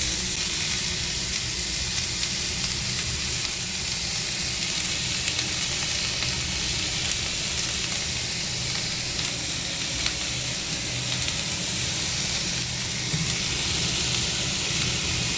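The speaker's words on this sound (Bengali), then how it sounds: "এবার শিমটা আগে একটুখানি ভেজে নেবো" Flat beans fry in a pan with a loud, dense, continuous sizzle and hiss, steady and close throughout with no voices.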